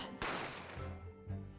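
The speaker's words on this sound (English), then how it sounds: "a gunshot rang in my ears." A gunshot from the courtroom mystery video game Great Ace Attorney: one sharp, loud crack bursts out and fades, followed by a second, softer blast, with low game music underneath.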